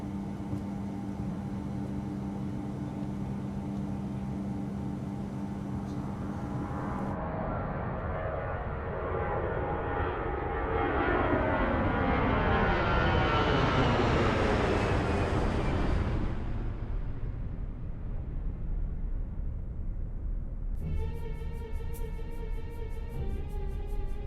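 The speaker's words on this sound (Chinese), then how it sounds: "飞机马上要起飞了" An airliner takes off, its engines building from a steady hum into a loud roar that climbs and swells before fading. Near the end, electronic cabin tones ring in short repeated bursts.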